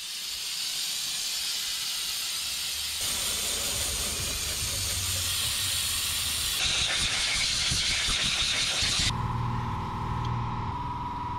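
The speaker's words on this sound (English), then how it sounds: "I hit her with a brake clean blast." Brake cleaner aerosol sprays in a long, loud, continuous hiss up close, shifting in tone a few times as the can is aimed around an old 1976 GMC Sierra's engine.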